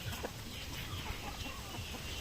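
Native chickens cluck softly among the flock on a backyard farm, faint and steady against a low background hum.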